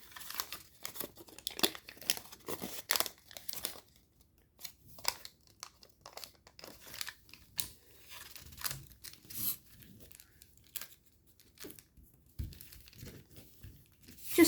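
Sheets of paper being creased and folded into an origami jet, with crisp crinkling, rustling and sharp crease snaps in irregular bursts, close and fairly quiet with short pauses between handling.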